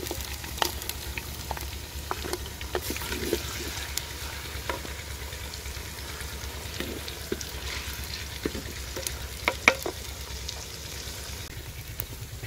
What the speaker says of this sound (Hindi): अदरक और लहसुन को थोड़ी देर भूनने के बाद